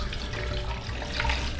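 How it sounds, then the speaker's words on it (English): Water poured into a hotel coffee maker, a steady splashing, trickling stream running continuously at close range, alone without talk. "I'm gonna just take the water and pour it in."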